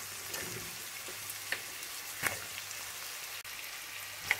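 Carrots and onion frying in hot oil for Chinese spring rolls, a faint continuous sizzle with a few light taps and clinks from stirring, close and without talk.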